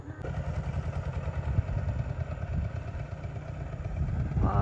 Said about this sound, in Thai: โอ้นั่นรถซิ่งเพิ่น